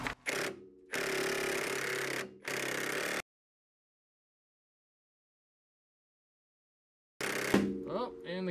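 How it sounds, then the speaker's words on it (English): An impact wrench loosens a captured bolt on a Jeep Liberty during a front lift kit install. It sounds as three loud, close rattling bursts, then a long silence, then another harsh burst. "I got my impact wrench"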